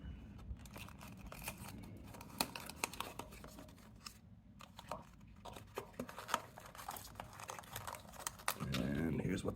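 Duct tape being peeled and torn from a Toro TimeCutter mower wiring harness: quiet, close crackling and ripping bursts in uneven spurts, ending in a louder rustle.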